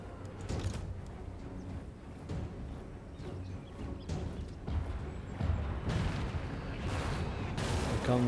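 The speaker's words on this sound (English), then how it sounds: "come the mortars" Dwarf mortars fire in Total War: Warhammer 2 as a run of deep booms and crackling blasts at irregular intervals, a busy battlefield barrage that grows louder toward the end.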